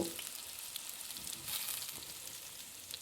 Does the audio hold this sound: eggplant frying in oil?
yes